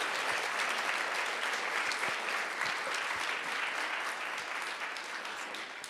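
An audience at a live creative talk event claps and cheers in dense, sustained applause that fills the room and eases slightly toward the end.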